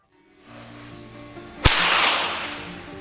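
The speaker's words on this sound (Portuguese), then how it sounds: "Um chicote, por exemplo." A single sharp whip crack snaps out over a steady background hiss, a sudden bright report followed by a lingering wash of noise.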